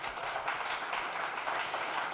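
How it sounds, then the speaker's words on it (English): A studio audience gives a steady round of applause at a data science event, dense even clapping held at a constant level for a couple of seconds with no voices over it. "Should we give him one more round of applause?"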